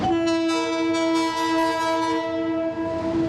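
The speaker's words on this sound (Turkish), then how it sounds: "Heyecanla beklenen turistik Doğu Ekspresi yolculuğu başladı" The Doğu Ekspresi tourist train sounds a long, loud, steady horn as it departs, with faint rail rumble beneath the sustained blast.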